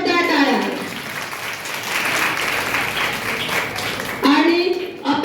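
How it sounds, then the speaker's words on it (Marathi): A crowd applauds women on stage at a Women's Day event organised by a foundation, clapping loudly and steadily throughout, with people talking over the applause at the start and end. "सर्व सगळ्यांसाठी जोरदार टाळ्या"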